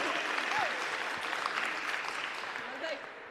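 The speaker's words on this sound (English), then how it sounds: "So just a round of applause for Beata." An audience claps for the organiser of a women's sport expo, a steady wash of applause that slowly fades, with faint voices mixed in.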